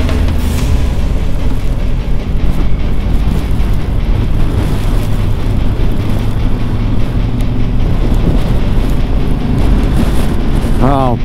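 Wind roars over a motorbike rider in hail and snow in Morocco, a loud, unbroken buffeting rush with engine rumble underneath, steady for the whole stretch.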